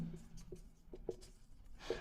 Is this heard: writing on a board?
yes